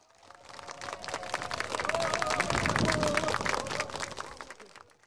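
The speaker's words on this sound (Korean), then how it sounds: "두 분에게 심찬 박수 한번" Applause from an audience at the opening ceremony of the 21st Gueup Spring Flower Festival: dense, continuous clapping that swells to a peak mid-clip and tapers, with crowd voices murmuring underneath.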